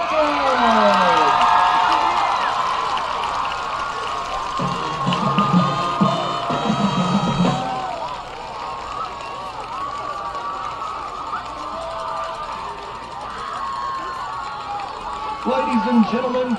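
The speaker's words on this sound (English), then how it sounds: "please give one more huge round of applause for our homecoming queen and our king and queen" A stadium crowd cheers and applauds for the Eisenhower High School homecoming queen at a 2024 football game, a broad roar with whoops and shouts that swells and fades as an announcer speaks over the public address.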